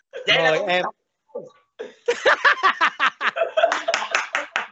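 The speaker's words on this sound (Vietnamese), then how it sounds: "Một tràng pháo tay cho biên tập." A crowd at a lively lô tô bingo-calling show claps in a quick burst of uneven hand claps mixed with chuckles, following a short spoken line from a host.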